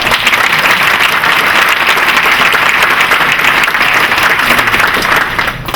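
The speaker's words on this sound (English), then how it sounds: "Let's give them a round of applause." Steady, dense applause from an alumni awards audience filling a hall, loud and sustained for several seconds before starting to thin out at the end.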